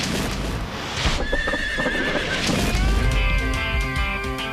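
A tiny miniature stallion, billed as the world's smallest, lets out a loud, close, shrill whinny that wavers and breaks into several pitched bursts, with some hoof and movement noise underneath.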